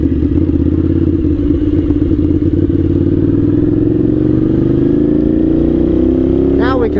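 A 1998 Suzuki TL1000R motorcycle's engine pulls up through the revs, its loud, throbbing drone climbing steadily in pitch with some mechanical clatter and a brief rising whine near the end.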